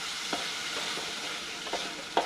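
Onions with salt sizzle steadily in a frying pan, with a few soft scraping strokes of a stirring utensil breaking through the quiet hiss.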